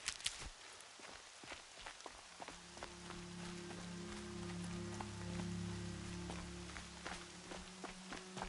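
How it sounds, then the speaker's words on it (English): Rain in the video game Horizon Zero Dawn, a steady quiet patter of drops across the whole stretch with scattered light taps and a low steady ambient drone underneath, no talking. "More rain."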